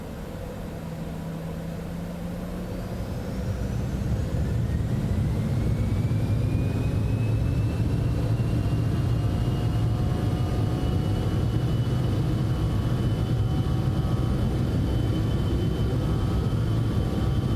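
A Citation X business jet spooling up and rolling down the runway for takeoff in Microsoft Flight Simulator, a loud steady engine roar with a rising whine that climbs in pitch as thrust builds.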